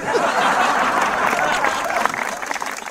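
A studio audience claps loudly at a Punjabi comedy show, a dense burst of applause with some laughter mixed in, tapering slightly near the end.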